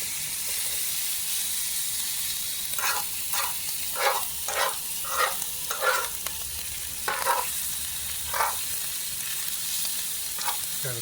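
Chicken and shrimp fried rice sizzles in a pan with a steady hiss, broken by repeated rhythmic scraping bursts as it is stirred, close and moderately loud.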